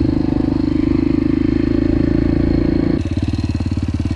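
A Yamaha TT-R dirt bike engine holds a loud, buzzy idle with a clattering beat, then drops to a rougher, lower pulsing note near the end.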